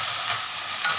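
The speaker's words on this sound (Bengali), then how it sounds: "এবার এঁচোড়টা দিয়ে একটু কষিয়ে নেব" Raw jackfruit is stirred and fried in an oily spice paste for a Bengali curry, making a loud, close, continuous sizzle with scraping stirs and a couple of brief surges.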